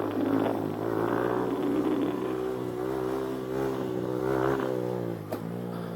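A Honda Grom motorcycle engine revs hard during a wheelie, close and loud, the pitch rising and falling with the throttle in a couple of surges before dropping near the end.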